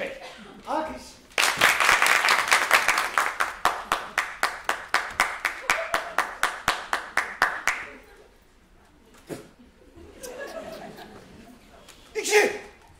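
During a school stage performance of the Turkish play Keşanlı Ali Destanı, a group claps in loud, regular unison beats for several seconds, then stops; voices and some laughter follow.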